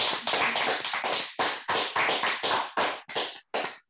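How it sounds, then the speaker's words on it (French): Participants on a video call applaud, giving a brisk, close burst of clapping through microphones that thins into scattered claps toward the end, with no talk over it. "de tous activer vos micros et puis on va s'applaudir, s'il vous plaît"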